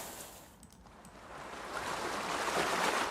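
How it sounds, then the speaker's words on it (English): Ocean waves ambient effect from a free VST plugin: a washing surf roar that dips, then builds steadily louder, with no voices. "Ocean waves."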